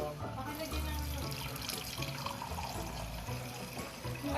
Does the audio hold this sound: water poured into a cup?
yes